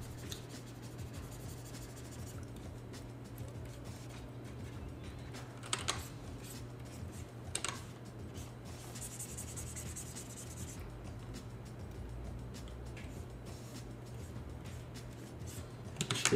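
A pencil sketches by hand on paper for an animation storyboard, making soft, continuous scratching strokes over a low steady hum, with a few brief louder taps and rubs; no one speaks.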